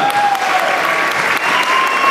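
A crowd at a Canadian submission grappling event applauds the match winner: loud, dense, continuous clapping close up that fills the whole moment without a break.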